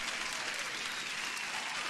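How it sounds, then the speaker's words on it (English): Steady applause sound effect of many hands clapping at once, dense and even throughout with no voices. "The first one deserves an extra applause"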